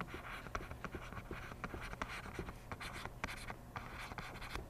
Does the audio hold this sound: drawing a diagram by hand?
yes